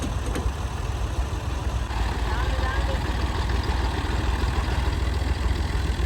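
A tractor stuck in the ground runs with a steady, rumbling diesel idle close by, continuous throughout, while people talk over it.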